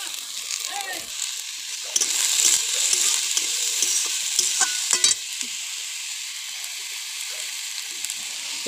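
Chopped bottle gourd stirred and frying in a hot pan with turmeric and salt, a steady close sizzle with scraping spatula strokes, loudest in the middle stretch, with no talk.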